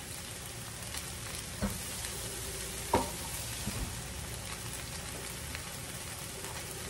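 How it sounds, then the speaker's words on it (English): Shredded hash browns frying in a pan, a soft continuous sizzle heard up close with a few faint pops and light scraping taps. "I'm wanting that bottom to seal."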